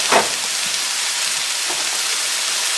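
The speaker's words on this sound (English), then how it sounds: "So I'm going to saute those up and then throw the onions in next." Mushrooms and onions sautéing in a pan, a steady, close hiss of frying with a brief clink near the start.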